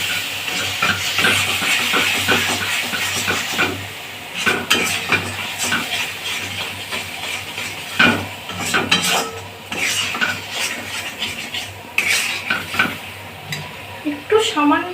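Ground spices sizzle in hot oil in a pan for a young jackfruit curry. A spatula scrapes and clatters against the pan again and again in an irregular stirring rhythm over a steady frying hiss.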